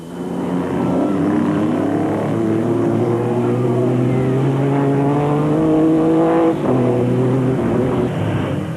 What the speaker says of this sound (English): Carolyn made quick work of Moffat, and a short while later, the Jeep also got by.